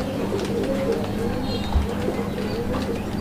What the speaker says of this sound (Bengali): আমরা এই মুহূর্তে দেখতে পাচ্ছি এখানে আরও এক জোড়া কবুতরের কালেকশন রয়েছে